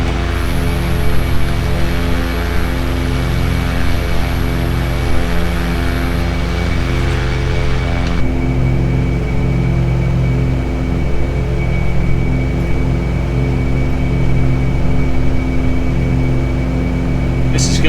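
A Cessna 182RG piston engine drones steadily in Flight Simulator 2020 as the landing gear is lowered, a continuous loud propeller hum with a shift in tone partway through, no talk over it.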